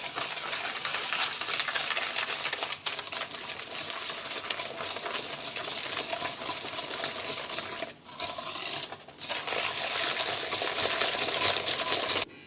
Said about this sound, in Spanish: Vamos a mezclar un poco hasta que el azúcar se integre bien con los huevos.